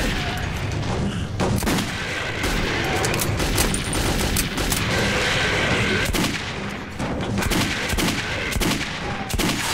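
Gunfire in the Metro 2033 video game: a dense, unbroken barrage of rapid shots and booms runs loud and close for the whole stretch, with no talk.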